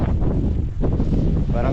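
Strong wind buffets the microphone in a continuous low roar at an outdoor seaside or boating spot, steady and loud throughout the clip.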